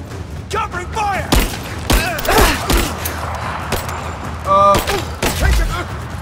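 Gunfire in the video game Rise of the Tomb Raider, with scattered shots and thuds in a busy firefight, mixed under frequent shouted speech.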